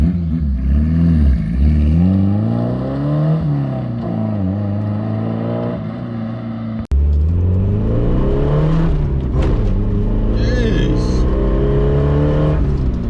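A Suzuki Samurai 4x4 engine revs and accelerates close by, with rising and falling pitch sweeps through the gears. A sharp break comes midway, then the climbs continue with whining and rattling. Voices faintly mixed in.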